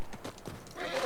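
In The Last of Us Part 2, a horse close by gives a few quick hoof clops, then lets out a loud, drawn-out neigh near the end.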